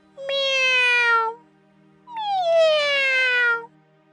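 Two drawn-out cartoon cat meows in an animated Hindi moral story, each lasting about a second with a short pause between, clear and close with no talk over them.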